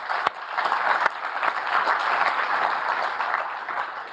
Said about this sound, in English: So big applause for you, Dickie.